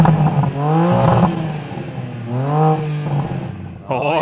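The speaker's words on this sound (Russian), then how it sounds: "Теперь послушаем BMW." A new BMW M3 engine revving in repeated rising and falling sweeps, loud and close, with a steady rumble beneath and a sharp change near the end.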